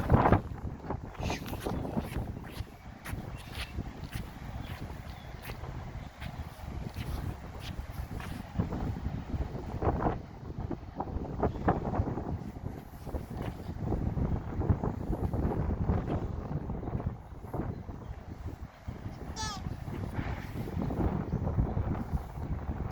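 Strong wind buffets the microphone outdoors near the water in heavy, uneven gusts that stay loud throughout. Brief voices can be heard faintly underneath.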